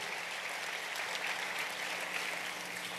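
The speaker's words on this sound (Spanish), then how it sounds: "Dele palmas con todo su corazón al Señor de la gloria." Congregation clapping during a church service, a steady, even wash of applause from many hands at moderate distance, continuous for a few seconds without voices.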